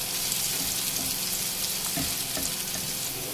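Onion and green chili fry for masala Maggi in a pan, a steady dense sizzle holding at an even level with occasional soft stirring knocks, close and alone without voices.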